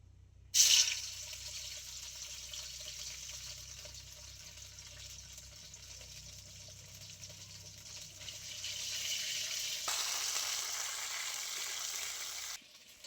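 Ginger paste, cinnamon sticks, cardamom pods, salt and cumin seeds hitting well-heated oil in a pan, a sharp sizzle that starts loud, settles into a steady hiss, then swells again near the end, with no talking.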